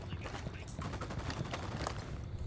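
Dense gunfire in a Ghost Recon Wildlands firefight, rapid overlapping shots and bursts running continuously without a break, with players' voices talking over the shooting.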